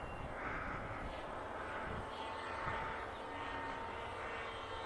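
Electric motor of a blunt-nose Teksumo model airplane drones steadily at about half throttle, a continuous buzzing whine heard close and loud throughout.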